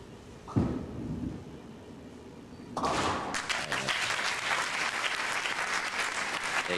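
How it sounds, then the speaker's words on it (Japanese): Fans at a 1995 professional bowling championship in Japan break into applause and cheering. After a quiet stretch with a brief thump, a broad wash of crowd clapping swells and holds steady, loud and continuous. "盛んに声援が飛んでいました"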